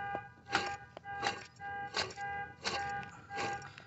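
Worn pulley on a Chevrolet Impala engine gives a rhythmic scraping, about five broad rasping bursts roughly every 0.7 seconds over a steady whine, moderately loud and close with no talk.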